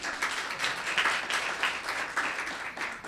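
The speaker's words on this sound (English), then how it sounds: "Round of applause." Applause breaks out at a Los Gatos town council meeting, a modest room of people clapping in a soft, rippling patter with slightly uneven swells, fairly quiet and free of speech.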